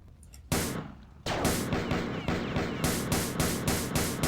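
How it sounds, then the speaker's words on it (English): Enemy gunfire in the shooter game Marathon Infinity: loud, sharp bursts of shots, one near 0.5 seconds, then a rapid string of repeated blasts that continues steadily to the end. "Oh, he's shooting at you."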